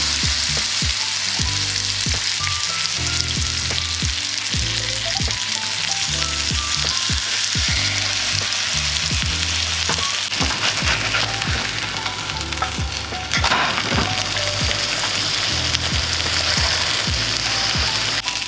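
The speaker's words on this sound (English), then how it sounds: "Just going to add my burgers into a hot pan." Vegan plant-based burgers frying in a hot pan, with a continuous close crackling sizzle, occasional scraping taps of a utensil, and a low steady hum underneath throughout.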